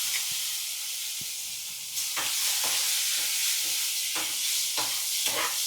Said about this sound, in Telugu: ఇప్పుడు ఈ నూనెలో చేపలు వేసుకుందాం.